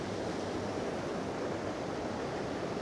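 Waterfalls pour steadily, a dense, even roar of rushing water with no change in level and no other sounds, heard from a moderate distance.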